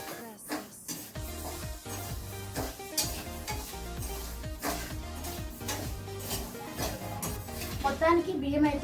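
Rice grains frying to golden brown in a pan for an Andhra-style chandrakanthalu sweet, stirred with a utensil in steady scraping strokes under a continuous close sizzle, while people talk nearby.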